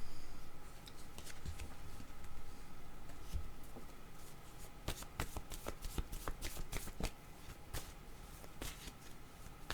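A deck of tarot cards being shuffled up close, a soft riffling and sliding at first, then a run of crisp, rapid card snaps and flicks.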